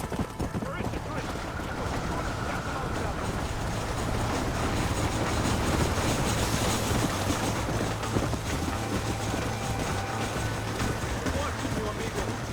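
A steady rumbling rhythm of a moving train runs throughout in the Western video game Red Dead Redemption, mixed with hoofbeats and background music, loud and continuous.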